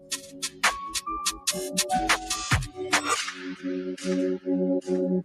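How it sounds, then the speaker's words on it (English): Gunshots in a Chicago street shooting, a rapid burst of sharp cracks followed by a few scattered shots, then a run of regular ticking tones. "They would shoot him multiple times"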